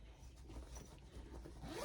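A zipper on a small bag pulled open, a short close rasping slide that rises at the end, alone and fairly quiet.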